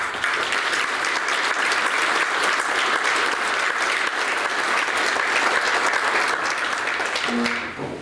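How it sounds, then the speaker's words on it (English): Sustained applause fills a hall as board members of an alumni and university foundation stand to be honored at a sports hall of fame luncheon, steady and dense throughout before tapering off at the end. "for us to honor them with a round of applause"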